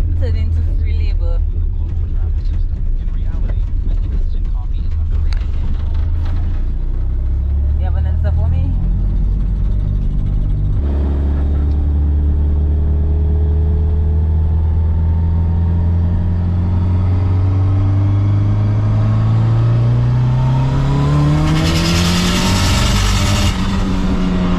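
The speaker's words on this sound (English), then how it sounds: "So now let's go for a drive." A car fitted with water injection driving and accelerating, its loud engine note climbing steadily through the gears with a brief shift dip, heard from the cabin with a voice talking over it.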